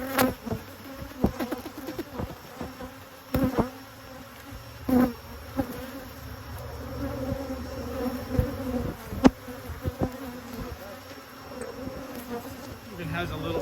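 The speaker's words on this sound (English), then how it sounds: "this thing is full of bees. And they're not very happy with this right now" Honey bees buzz thickly around an opened hive box during an inspection, a constant close drone with scattered taps and bumps from handling the frames.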